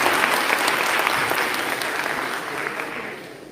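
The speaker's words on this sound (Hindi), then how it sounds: "एक बार तालियां बजा दीजिए।" An audience at a Hindi comic poetry gathering breaks into dense, continuous applause, a loud wash of many hands that fades slightly toward the end.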